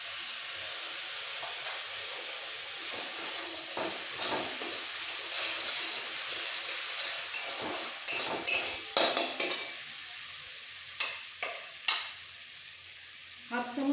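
Ginger and garlic paste with spices frying in a pan for egg devil, a steady close sizzle broken by scraping stirs and clinks of a spoon against the pan, the strokes growing sharper and more spaced toward the end.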